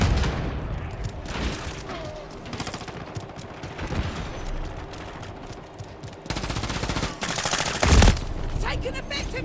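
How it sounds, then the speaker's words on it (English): Rapid automatic gunfire and single shots from a Call of Duty: Modern Warfare 3 match, loud and close, in bursts with short gaps and a heavy blast near the end, with game voices calling out between volleys. "Taking effective fire!"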